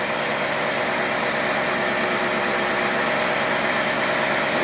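A car engine fitted with an Edelbrock carburetor idles steadily after its idle screws were opened slightly, giving a continuous, even rumble with no talking.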